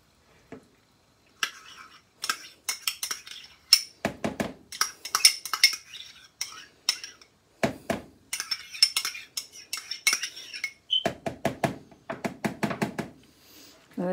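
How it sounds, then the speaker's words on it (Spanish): Two tablespoons of mayonnaise are spooned into a bowl, giving close, sharp clinks and scrapes of a metal spoon against the dish in uneven bursts, with no talking. "Vamos a echar 2 cucharadas de mayonesa."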